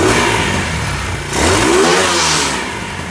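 A mid-pitched motorcycle engine, first run after 20 years idle, runs steadily with a slightly too-high idle, then rises in a brief rev before settling back toward idle, loud and close throughout.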